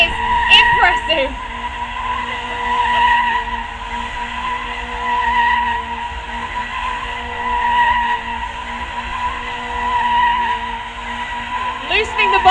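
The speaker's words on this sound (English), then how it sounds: "He's actually jacked the front of the car up, enabling him to take that front tyre off while still donutting." A stunt car spins donuts at a Silverstone stunt show, its front end jacked up with a tyre being removed mid-spin. The tyres make a continuous loud squeal, with engine drone and an announcer talking throughout.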